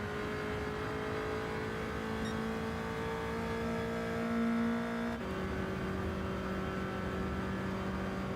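Race car engines in Gran Turismo 7, a steady droning whine of several cars running together, pitch climbing slowly and then dropping at a gear change, moderately quiet.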